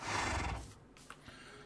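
A black horse in Minecraft lets out a short, close neigh that fades quickly, followed by faint quiet.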